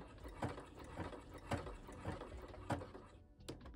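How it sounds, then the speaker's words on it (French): A domestic sewing machine stitches a short zigzag bar tack on fabric for a blouse, with quick bursts of mechanical whirring and clicking and a brief pause before a final burst. "je fais un point d'arrêt. Quelques points zigzag."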